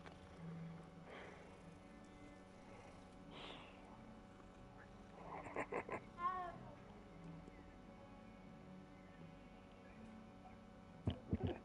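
Cats meowing while being petted in Hogwarts Legacy, several short faint meows scattered over quiet game ambience, with a small cluster of chirpy mews midway and more near the end.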